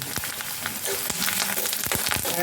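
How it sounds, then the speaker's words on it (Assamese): Peanuts frying in hot oil in a home kitchen, a continuous close crackling sizzle with occasional sharper pops and the scrape of stirring, no voices. "বাদামকেইটা অকণ ভাজি ল'ম"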